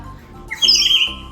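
A bird-shaped water whistle toy filled with water gives one loud, bubbling, warbled chirp lasting about half a second, heard alone without talk.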